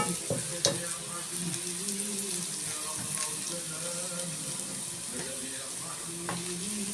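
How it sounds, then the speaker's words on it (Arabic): Onion and garlic frying in oil, a continuous close sizzle with stirring scrapes and a few sharp clinks of a utensil against the pan. "لازم البصلة تحمر قوي كده"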